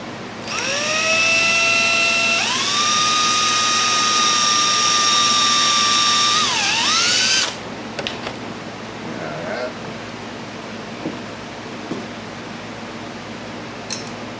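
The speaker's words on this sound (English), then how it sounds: "We gotta pick this up and drill through here at the middle." A power drill bores through a part during the build of a Phoenix model, a loud rising whine that spins up, holds steady for several seconds and winds down, followed by quiet clicks and handling sounds.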